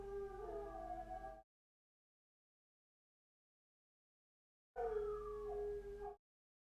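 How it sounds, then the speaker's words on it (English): Dogs howl outside in two separate long, wavering bursts with a few seconds of silence between them, sounding somewhat distant and muffled. "Dogs are going wild."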